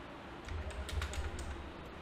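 Keystrokes on a computer keyboard while entering text in AutoCAD, a soft, quiet run of taps clustered in the middle second with no voices.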